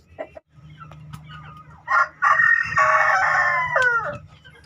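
Native village chickens, a rooster among hens, with a rooster crowing loudly and close in one long call over steady clucking, with brief bird calls before it.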